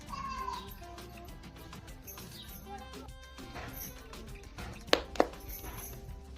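A cat meows briefly near the start inside a house, a soft cry under low household background noise, followed later by a couple of sharp clatters.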